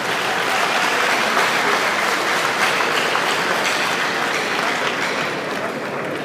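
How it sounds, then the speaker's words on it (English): A large audience claps steadily and densely at a health-sector gathering of doctors, nurses and technicians, loud and continuous with no pause for the full stretch. "I beg, make we clap for NAPMED"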